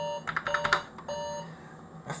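A cheap phone in a shed gives a quick run of short electronic beeps, followed by a single beep and a brief soft blip, fairly quiet against a steady background hum.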